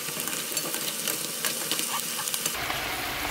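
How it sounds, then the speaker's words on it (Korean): Braised Korean short ribs (galbi-jjim) bubbling and sizzling in a pot as they are stirred, a steady hiss with soft scraping and clinking, close and fairly quiet. "자, 요럴 때 이제 한번 뒤져 끓여줄 겁니다."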